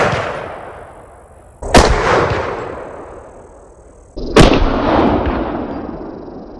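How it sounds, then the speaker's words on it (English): Two loud rifle shots from a 6.5 Creedmoor firing 124 grain Hammer Hunter bullets at a sow about 125 yards away, each sharp crack trailing into a long rolling echo, with no distinct separate impact thud audible. "Listen to this thud."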